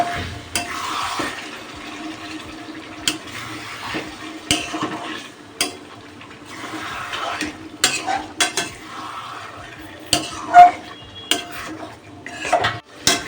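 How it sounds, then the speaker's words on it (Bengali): Chicken for biryani is sautéed in a pot without added water, a spoon repeatedly scraping and clinking against the metal over a soft, steady sizzle. "এবার ভালো করে এটাকে কষিয়ে নেব।"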